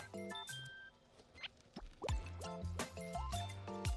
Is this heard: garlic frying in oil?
no